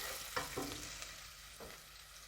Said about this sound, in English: I'm going to saute my onions for a